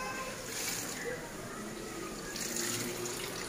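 Rainwater pouring into a house room during heavy rain, coming through the ceiling and down a wall, makes a steady, continuous broadband splashing and trickling that stays fairly loud for the whole stretch, with no voice over it.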